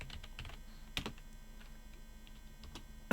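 Someone types on a computer keyboard in a quiet room, with scattered soft keystrokes and one sharper, louder key press partway through.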